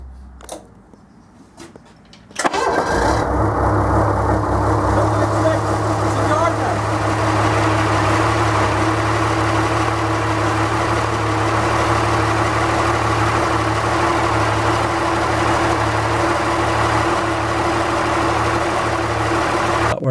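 An old engine, likely a stationary or vintage unit, cranks and catches after a short quiet spell, then settles into a loud, steady running drone with a strong low rumble that carries on without a break.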